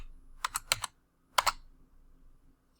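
Keystrokes on a computer keyboard come in two quick bursts, four taps and then two, crisp, close and fairly quiet, in an otherwise still room.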